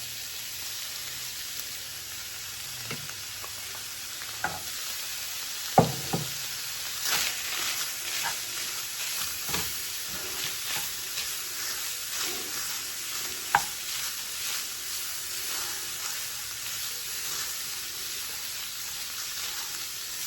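Ground taco meat with spice blend is stirred around a skillet, a steady close sizzle under repeated scraping and tapping of a utensil against the pan, with irregular louder knocks throughout and no talk.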